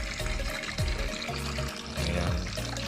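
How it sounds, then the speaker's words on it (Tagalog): Tap water runs into a large plastic bucket being filled with 13 liters for homemade dishwashing liquid, a close splashing gush with rising gurgles and shifting pitch as the level climbs, continuous and fairly loud. "Tapos lagyan natin ng 13 liters na tubig."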